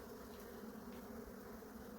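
A steady, dense buzzing of many honeybees at the hive hums continuously at close range, low and droning without a break.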